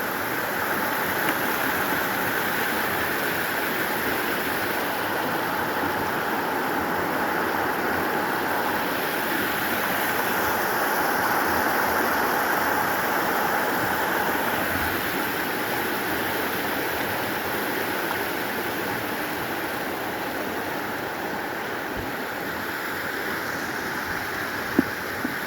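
A river rushing steadily along a mountain trail near Slab Camp Creek, a loud, continuous close-up roar of flowing water that never lets up.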